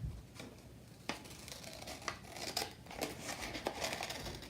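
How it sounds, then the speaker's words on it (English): Scissors snip through paper along a folded crease for an origami flexagon, a series of short crisp cuts with light paper crinkling in between, close and fairly quiet. "take some scissors and cut right along the line"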